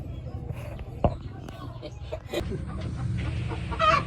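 Broiler chicks in a coop peep and cluck in scattered bursts at close range, with a sharp knock near the start and voices speaking over part of it.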